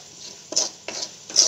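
Grated coconut roasts in a little oil in a very hot kadhai, a metal spatula scraping and clinking against the pan in three distinct strokes over a low, quiet sizzle.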